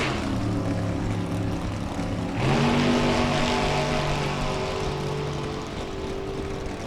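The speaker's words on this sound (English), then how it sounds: "we'll listen to Tony's car head down track" Drag racing car running down the track at high RPM during a Topeka race, a loud sustained engine whine with rising harmonic tones that climb as it pulls away, steady and prominent without talk.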